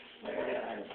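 A puppy gives a short, faint, whining whimper lasting about a second, with no speech.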